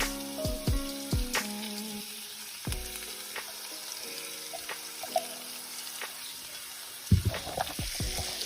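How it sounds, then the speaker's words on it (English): Onions, garlic and bacon cook in a pan with a soft, steady sizzle, overlaid by sharp clinks and scrapes of a utensil against the cookware at close range. "while I'm waiting for the onions, garlic, and bacon to finish cooking"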